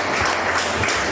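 Audience in a university hall applauding to welcome a law student at a mock trial, a brief dense wash of clapping heard alone.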